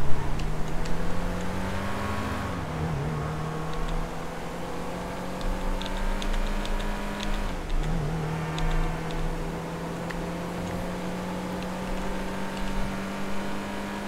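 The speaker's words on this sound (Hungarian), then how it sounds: "Fura hangja van ennek az autónak." A car engine in GTA V holds a steady droning rev, loud and close, with two brief shifts where the pitch dips and climbs again, and no talking.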